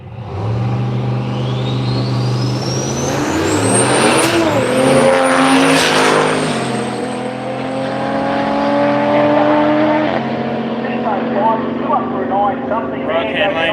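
Drag race cars, including a Toyota Supra, make the final run of a weekend street machine drag challenge: a loud engine roars close by, revs climb and shift in steps, then fade into distance, with a voice talking over it.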